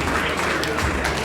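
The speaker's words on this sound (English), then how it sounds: "Please put your hands together for him." A brief burst of dense applause from the audience at an anniversary celebration party, a steady wash of many hands clapping, with a voice faintly over it.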